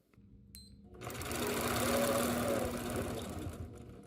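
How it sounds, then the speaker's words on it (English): A sewing machine quilts a fabric block in a steady, continuous whir, close and loud, starting after a brief quiet moment and running without pause. "as I quilt this first block, the sides draw up and gets puffy"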